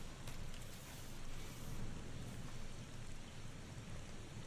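Rain falls in the video game The Thaumaturge, a faint, steady hiss and patter with low rumbling underneath and no talk.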